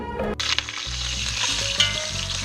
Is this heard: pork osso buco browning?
yes